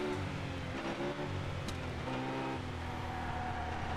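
Renault Clio race car engine in TOCA Race Driver 3, a steady droning hum holding near-constant pitch with slight shifts, alongside other cars in a close-pack race.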